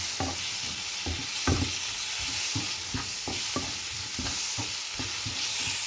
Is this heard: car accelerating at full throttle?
no